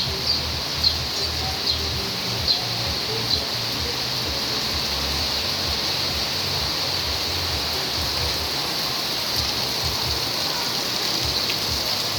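Heavy nonstop rain pours steadily outdoors, a dense, even hiss of falling water that stays loud and constant throughout, with a few faint bird calls in the background.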